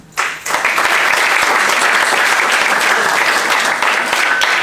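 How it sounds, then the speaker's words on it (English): Loud crowd applause at a college athletics awards banquet, starting abruptly after a brief quiet moment and then sustained as a full, dense clapping wash until the end. "I like to give a nice round of applause to them"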